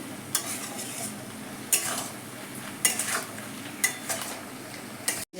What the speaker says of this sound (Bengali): এবার এটাকে আমি আর কিছুক্ষণ কষিয়ে নেব মশলার সাথে।